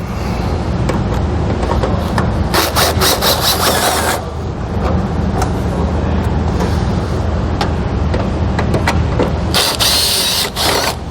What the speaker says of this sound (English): we're going to use a 10mm head socket, or a 10mm socket